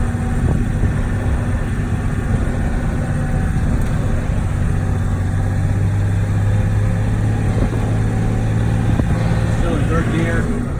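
A 1984 Volkswagen LT 28 Westfalia camper van with a diesel engine drives along in third gear, its steady low engine drone and road rumble continuous and fairly loud throughout, with a voice talking over it.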